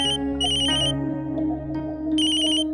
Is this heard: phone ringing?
yes